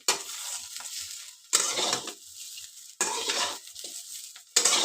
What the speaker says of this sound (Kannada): ಅಷ್ಟೊತ್ತಿಗೆ ಇಲ್ಲಿ ಫ್ರೈ ಆಗಿದ್ದಾವೆ ಚೆನ್ನಾಗಿ ಹಾಗಲಕಾಯಿ